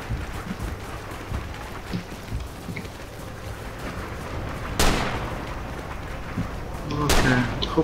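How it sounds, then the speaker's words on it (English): Artillery fire in the video game Rising Storm: two heavy blasts, spaced a couple of seconds apart, cut through a steady rumble of battlefield noise. "Okay, hoping that artillery is enough to keep them away."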